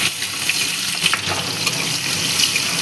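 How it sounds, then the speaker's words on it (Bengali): Chopped tomato stirred and frying in a pan after bay leaf and dried chilli, a steady wet sizzle with light stirring scrapes, close and continuous. "এটাকে একটু নেড়ে নেব।"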